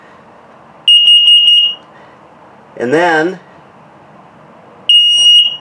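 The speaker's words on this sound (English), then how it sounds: "This is your carbon monoxide LP gas detector. One test, another one coming up." A carbon monoxide and LP gas detector in a 2020 Starcraft 242RL camper under test gives a loud, shrill rapid burst of beeps, pauses, then beeps again, with a person speaking briefly in the gap between.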